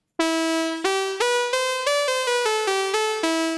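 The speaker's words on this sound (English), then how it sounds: "Now remember, the original VCO sounds like this" A bright, buzzy modular synthesizer VCO tone, AJH Synth MiniMOD, plays a sequence of about ten separate notes, each attacking sharply and decaying slightly before the next, loud and dry.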